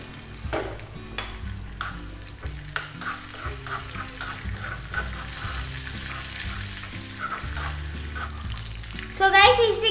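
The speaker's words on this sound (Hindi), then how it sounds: "इसी के साथ में अब हम डाल देते हैं इसमें राई।" Mustard seeds and cumin sizzle loudly and continuously in hot oil for a quick instant chutney, with occasional stirring scrapes and a tonal background bed underneath.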